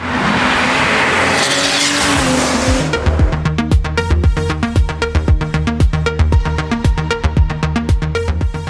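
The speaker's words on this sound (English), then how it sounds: "you hear the turbo wastegate pop, hiss and rumble" Porsche 911 Turbo with turbo wastegate pop, hiss and rumble: a loud broadband rushing hiss for about three seconds, then a rapid train of sharp pops and crackles over a throbbing engine rumble, close and continuous.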